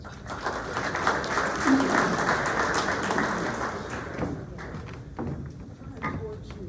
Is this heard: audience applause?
yes